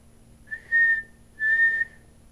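Two sustained whistled signal notes sound clearly against quiet, each holding a steady pitch for about half a second with a short gap between them.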